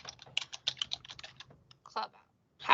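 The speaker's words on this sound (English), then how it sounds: "we're going to type it in." Rapid typing on a computer keyboard, a close, dense burst of crisp key clicks that slows and thins out, followed by a short pause and a final louder clack.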